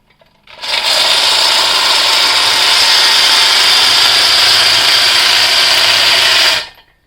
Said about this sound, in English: Now you can introduce a drill.